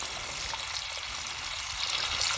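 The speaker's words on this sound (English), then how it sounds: "So I'm filling this actually with clean water right out of the well." Clean well water pours steadily into a gravity-fed homemade water filter, a continuous close hiss and splash with no pauses, growing slightly louder toward the end.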